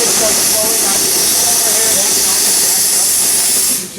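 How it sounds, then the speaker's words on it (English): Steam locomotive injector overflow blowing steam back into the tender on the Cumbres & Toltec Scenic Railroad, a loud, steady hiss that holds for several seconds before quickly dying away at the end. "See, it blows like steam back into the tender."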